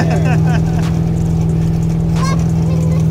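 An 800 HP 1971 Chevelle doing a burnout, its engine holding a loud, deep, droning rumble throughout while voices talk over it.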